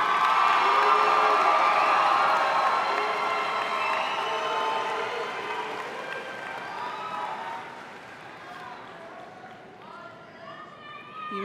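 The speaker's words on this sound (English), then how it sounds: "Now you may applaud for your top 10." A graduation ceremony audience breaks into loud, sustained cheering, whooping and applause for the top ten graduates of the class of 2022, the crowd noise gradually easing toward the end.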